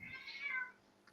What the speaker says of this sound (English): My cat just woke up